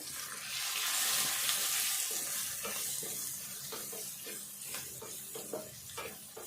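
Turmeric gets stirred into potato curry frying in a pan, a soft broad sizzle with quiet rhythmic scraping strokes of the spoon in the second half, no voices.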